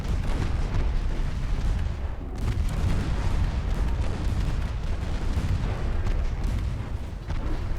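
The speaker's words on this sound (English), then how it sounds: "It's getting shredded. Torpedoes hitting all sorts." Dense, continuous roar of torpedo explosions striking warships in a Spanish-campaign naval battle game, loud and rumbling with overlapping booms and no clear gaps.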